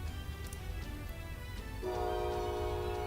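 A passing train sounds its horn in the background during a tabletop card game, a sustained multi-tone blast rising over a low rumble in the second half and continuing loud and steady to the end.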